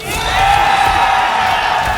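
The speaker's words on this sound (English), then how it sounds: "That sounds like a US crowd for a US player." Large crowd cheering and whooping at a Mortal Kombat 1 fighting game tournament, a loud sustained roar of voices filling the hall throughout.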